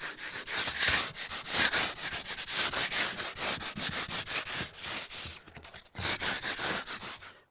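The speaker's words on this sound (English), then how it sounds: "I still got my sandpaper. I do the same thing with the siding. And it's just a light rub." Sandpaper rubs lightly over house siding in quick, even back-and-forth strokes, close and fairly loud, with a brief pause before the rhythm resumes.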